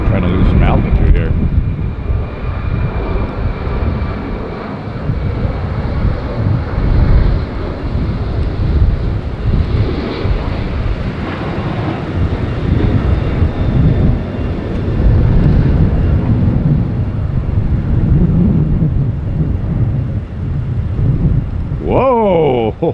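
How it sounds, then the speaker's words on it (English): A fixed-wing airliner landing in a gusty crosswind at Tampa airport, its engine roar steady and loud throughout, mixed with heavy wind buffeting on the microphone, with faint voices in the background. "Oh, some cool landing today."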